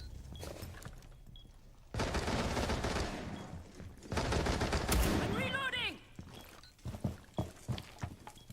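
Bursts of gunfire in a shooter video game, heavy dense volleys crackling over several seconds with a few sharper separate shots near the end.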